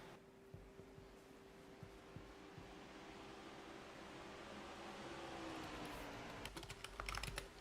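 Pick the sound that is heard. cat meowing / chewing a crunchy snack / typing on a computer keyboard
typing on a computer keyboard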